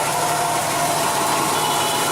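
A car engine idles steadily during a random misfire diagnosis, giving a loud, continuous mechanical rattle and hum close up with no break, and no talking over it.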